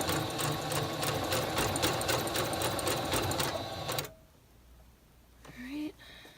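A sewing machine runs steadily at close range, stitching a blind hem on a cosplay garment with a plastic guide feeding the fold to the needle, its rapid mechanical chatter continuous for about four seconds, then stopping, followed by a few faint handling noises.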